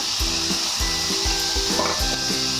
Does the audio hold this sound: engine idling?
no